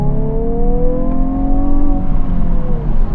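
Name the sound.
Hyundai i20N 1.6 engine revving with pops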